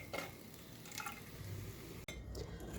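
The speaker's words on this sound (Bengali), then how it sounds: "আঁচটাকে মিডিয়ামে রেখে কিন্তু এইভাবে মাঝে মাঝেই নাড়তে থাকবেন" Thick malai milk being stirred in a pan with a spatula, a soft continuous scraping and swishing at low volume with a brief clatter partway through.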